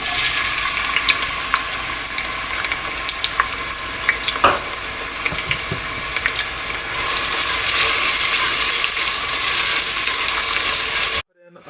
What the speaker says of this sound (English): Start by turning on our stove to high heat. And we're going to put in our oil, followed by the onions.